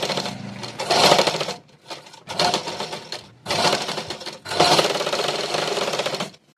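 A sewing machine stitches a folded blouse collar in four quick bursts, each a dense, rapid mechanical whirr close by, separated by short pauses.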